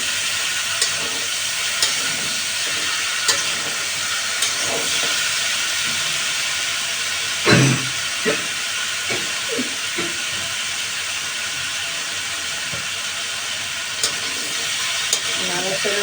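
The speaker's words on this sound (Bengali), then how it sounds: "তারপর সব কিছু দেওয়ার পর আপনি সবজিটা দিয়ে দেবেন, তারপর নাড়াচাড়া দেবেন।" Vegetables for a Bangladeshi dish fry in a pan while being stirred: a steady close sizzling hiss runs throughout, punctuated by soft scrapes and clinks of the spatula, with one louder clatter midway.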